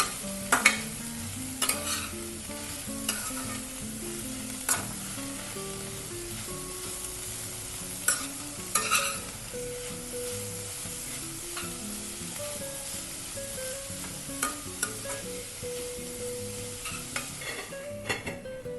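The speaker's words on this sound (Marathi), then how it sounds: "आता हा केस आपण थोडा हलवतोय" Grated watermelon rind is stirred in a frying pan under a soft, steady sizzle, with a spatula scraping and tapping the pan at irregular intervals throughout.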